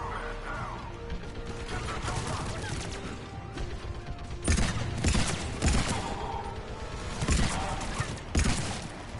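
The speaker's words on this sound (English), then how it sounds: "gun firing at us." Gunfire in the shooter Mass Effect 3, with loud sharp bursts of shots and impacts cracking out over a dense, busy layer of combat noise and mechanical clatter, several heavy hits clustered in the second half.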